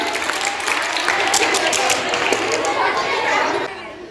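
A school science quiz audience claps for a correct answer, a dense patter of many hands mixed with excited chatter, filling the room before fading out at the end.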